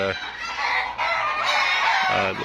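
Chickens on a desi egg farm of over a thousand birds, with a rooster crowing loudly and close amid continuous clucking and cackling from the flock.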